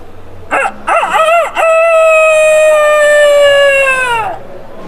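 A human voice imitates a cockerel's crow in a mimicry performance: a few short rising whoops, then one long, loud held call that trails off.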